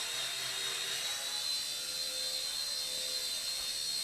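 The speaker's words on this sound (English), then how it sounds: "Hear it bogged down? That's full throttle, full throttle." Hisky HCP60 RC helicopter motor bogging down at full throttle, a constant high-pitched whine with a steady, unbroken drone throughout.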